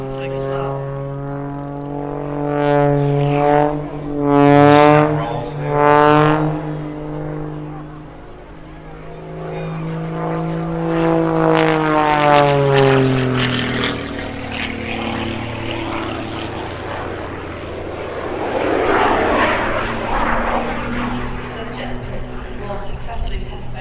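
A jet-assisted Pitts biplane with added turbines performs at an airshow, its propeller and engine drone rising and falling in pitch as it passes, loud and sweeping, with a faint turbine rush underneath.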